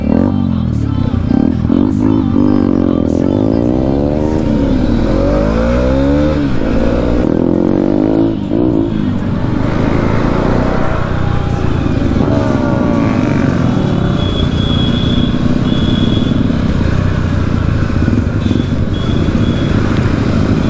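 A motorcycle engine revs repeatedly, rising and falling in pitch, loud and close, with a steady idle rumble between the revs.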